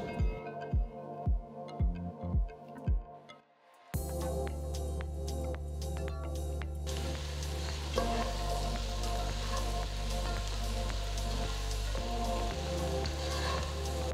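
About 800 grams of medium-cut mushroom pieces added to a pan for mushroom herb rice and stirred: a few sharp knocks at first, then a steady, close sizzle of frying that continues to the end, with no talking.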